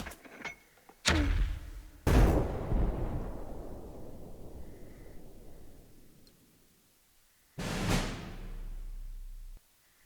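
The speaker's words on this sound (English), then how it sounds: "Left click support mortars. And barrage that X." Mortar barrage in the video game Burden of Command: a series of heavy explosive blasts, one after another with long rumbling decays, then a final loud burst followed by a sustained low roar.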